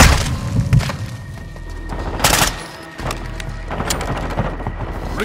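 Gunfire in Call of Duty Modern Warfare 2 comes as scattered loud shots and booming blasts, bursts of fire that stand out sharply against a rumbling battle background.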